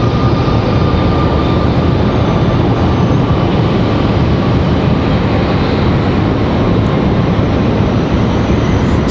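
Southwest airliner jet engines roaring at Raleigh-Durham International Airport, a loud, steady broadband rumble with a faint tonal whine that holds without pause throughout.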